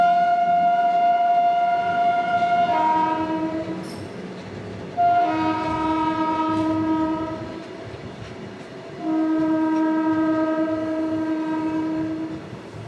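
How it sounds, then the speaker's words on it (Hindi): Shaktinagar-Varanasi Intercity Express train horn sounding in three long, loud, steady chord blasts separated by short gaps, over a continuous rumbling rail background. "हमारी ये शक्तिनगर वाराणसी इंटरसिटी एक्सप्रेस है, और सामने है यहाँ पर कामाख्या दिल्ली एक्सप्रेस"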